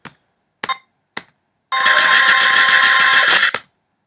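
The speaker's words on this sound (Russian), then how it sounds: "Это звук конкретно монет падающих." A slot machine sound effect of falling coins: three sharp separate clicks, then a loud bright metallic jingle of tumbling coins for nearly two seconds before it cuts off, with no other sound around it.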